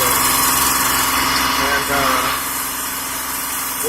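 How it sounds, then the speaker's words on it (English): The engine of a 2005 Kia Sorento with a lifter fault drones loudly and steadily as it is revved slightly above idle, with someone talking over it. "sitting here at idle, the engine don't sound too bad. But when you put a little bit on it, start hearing that tapping right there."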